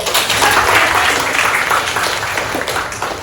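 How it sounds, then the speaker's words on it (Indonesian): A classroom of students clapping together, a sustained burst of applause that stays fairly loud and then slowly eases off. "Tepuk tangan lagi."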